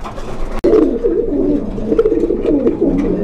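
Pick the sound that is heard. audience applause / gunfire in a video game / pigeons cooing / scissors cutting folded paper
pigeons cooing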